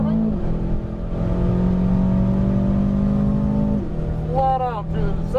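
Aston Martin Formula One car at full throttle around the Miami circuit, a loud sustained high-pitched engine wail climbing through the gears, with a short lift and rising shifts near the end; a voice talks over it throughout.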